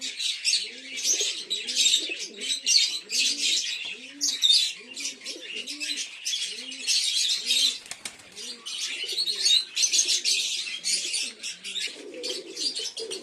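Kaldoma pigeons coo in a steady run of low rolling calls, close by, under a constant bright chatter of chirping birds and occasional wing flutters.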